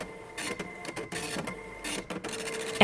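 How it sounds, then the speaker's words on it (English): A slow printer runs in bursts, its mechanical whirring and clattering feed stopping and starting several times in quick succession, close and loud, with no talk. "Sorry, slow printer."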